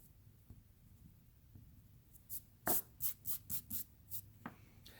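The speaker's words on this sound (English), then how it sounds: "I'm just going to get an eraser and I can erase these tails here" An eraser rubs out pencil lines on a drawing, a burst of quick, brisk scrubbing strokes in short rhythmic bursts, close and clear against a quiet room.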